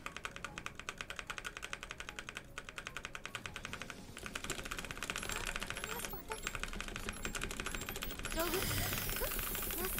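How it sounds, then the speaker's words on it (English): Computer keyboard keys are hammered rapidly while playing the PC game Sword Art Online: Fatal Bullet, a dense, steady stream of clicks running the whole time under a busy game soundtrack. "I'm just like hammering both the keys."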